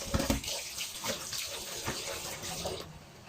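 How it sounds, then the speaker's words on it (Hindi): Fruits being washed under a running kitchen tap, a steady close splashing and trickling of water with brief louder gushes, heard alone without talk. "दूसरी तरफ मैं यहाँ पे फ्रूट्स वॉश कर रही हूँ"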